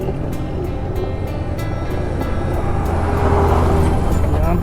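A car driving over a rough mountain road strewn with round stones on the high Deosai plains in Pakistan gives a steady, loud, close rumble of engine and tyres that grows slightly stronger toward the end, with no talking.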